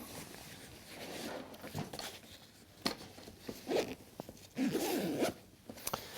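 Zippers dragged open on a Clik Elite Contrejour 35 camera backpack, several short rasping pulls close by, followed by fabric rustling as the back panel opens.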